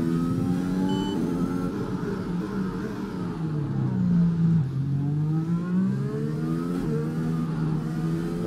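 The Williams Formula 1 car in the F1 2021 video game on the Australian circuit, its engine note whining steadily and loudly, rising and falling in pitch as it accelerates and shifts through corners.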